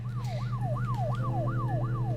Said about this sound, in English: Why is there like a police siren?